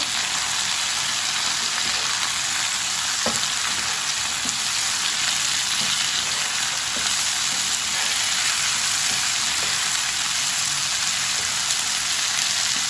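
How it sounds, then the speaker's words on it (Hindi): Chopped onion, tomatoes and green chilies fry in a pan for masala bhindi, giving a loud, dense, unbroken sizzle like heavy rain, with occasional faint knocks as the mix is stirred. "एक बरीक कटा हुआ प्याज डाल लेंगे, 2 टमाटर डाल लेंगे बरीक कटे हुए, 4 सब्ज मिर्च डाल लेंगे, अच्छी तरह मिक्स कर लेंगे।"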